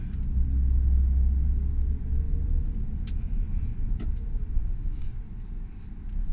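A 2012 Chevrolet 1500 extended cab 4WD pickup backs up in reverse, giving a steady low engine rumble heard from inside the cab, fairly loud and unbroken, with no talking.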